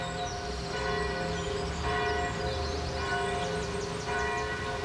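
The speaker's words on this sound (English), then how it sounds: "the bells of Paris rang out the coronation in Notre Dame Cathedral" Church bells of Notre Dame Cathedral in Paris peal together in a dense, continuous ringing, layered tones overlapping at steady loudness with no voices.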